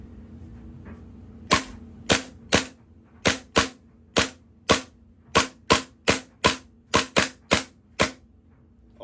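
KWA KZ.61 Scorpion gas blowback airsoft gun firing BBs: a rapid series of about eighteen sharp, close snapping shots in uneven bursts, with near silence between them.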